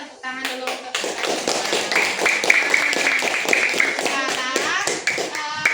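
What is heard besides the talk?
class clapping hands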